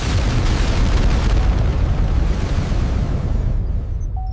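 A Harpoon missile launches during a US-Japan RIMPAC live-fire naval drill with a sustained, loud roaring rush of rocket exhaust that slowly fades toward the end, with no voices.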